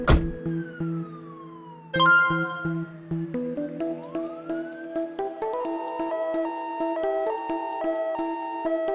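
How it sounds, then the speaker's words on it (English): A cartoon police car siren wails in rising and falling tones, starting alone and then joined by a bright, jingly musical melody that plays along steadily. "Police car"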